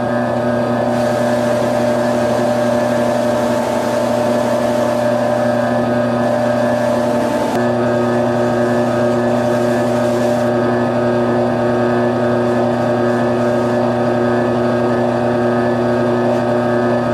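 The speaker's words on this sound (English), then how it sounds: "So we'll try it on this buffing machine, see how we do." A buffing machine runs continuously while a guitar is polished with medium and fine compound, a loud steady whirring drone with strong harmonic tones and a brief shift in load partway through, no talking.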